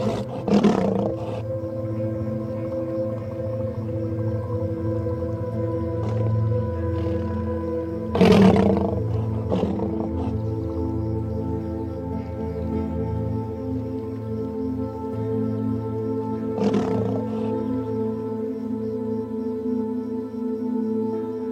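A young lion roars repeatedly over a wildebeest kill at a river crossing with a crocodile nearby, deep resonant roars and grunts close and loud over a continuous low rumble.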